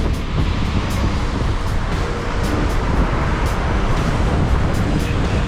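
Strong wind blowing along a rainy downtown Houston street as a constant loud roar and buffeting, with a wash of traffic noise beneath it.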